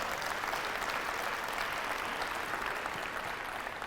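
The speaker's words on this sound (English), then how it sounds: "Give yourself a round of applause if you're going to step up." An audience at a university speaking event gives a continuous round of applause, a steady, even roar of many hands clapping at a distance without any break.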